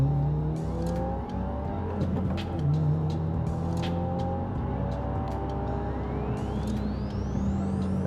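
A 2022 Subaru WRX engine pulls hard toward redline from inside the car, a loud, sustained roar with rising harmonic tones as the revs climb steadily over several seconds.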